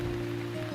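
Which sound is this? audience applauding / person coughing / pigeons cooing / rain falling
rain falling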